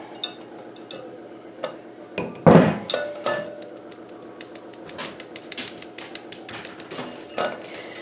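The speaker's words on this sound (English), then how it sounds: "you are going to need 1 cup of cake flour, and I am going to sift it." Cake flour sifted with a hand-crank sifter, a quick series of light metallic clicks and rattles ticking in a steady rhythm near the end, after a few louder clinks and knocks.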